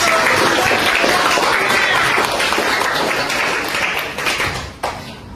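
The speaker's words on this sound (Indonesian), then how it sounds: "Mari kita tepuk tangan untuk" A class of students applauds together for classmates' correct answers, a dense, steady burst of many hands clapping close by for about five seconds before tapering off.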